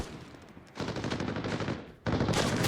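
Gunfire trades back and forth in the Arena Breakout Infinite tactical shooter during a tournament match: two dense bursts of rapid shots, loud and close, the second sharper after a brief lull, with no voices.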